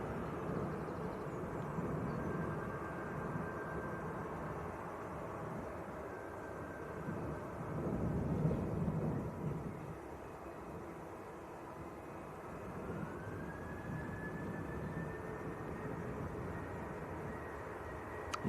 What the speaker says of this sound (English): KLM taxiing out. There's a Jet2 on the roll as well.